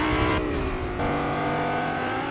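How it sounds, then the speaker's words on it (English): A car drives in the video game Fortnite, its engine droning steadily and loudly throughout with a revving, whirring tone and no talk over it. "I can hear a car."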